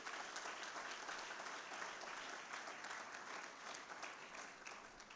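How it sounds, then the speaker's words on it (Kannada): An audience at a college event in Karkala bursts into sustained applause, dense rapid clapping from many hands held at an even level throughout. "ಚಪ್ಪಾಳೆಗಳು ಬರಲಿ"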